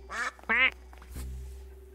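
Two loud, close duck quacks in the video game Duck Detective, a quick pair in succession, followed by a lower honking tone over faint background hum.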